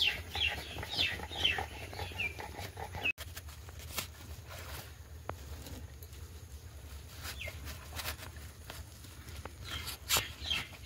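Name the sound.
chickens clucking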